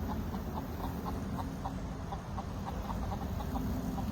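Backyard chickens cluck in short, repeated soft calls over a constant low background rumble.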